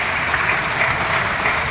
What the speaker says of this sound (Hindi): मैं समझता हूं एक बार जोरदार तालियां